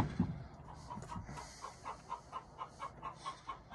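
An agitated hen in a backyard coop clucks in a rapid, evenly spaced series of sharp calls, about four per second, fairly close and alone.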